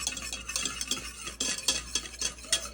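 A spoon stirs hot chocolate in a pot just off the heat, scraping and swishing in quick repeated strokes, close and fairly quiet with no talking.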